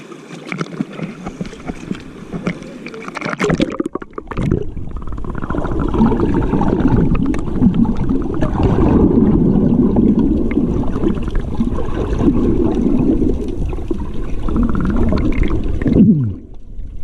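Strong sea waves roll in at Maragondon sanctuary beach in Ternate, Cavite, as a loud, close, continuous roaring surge. Sharper crashing and splashing come early on.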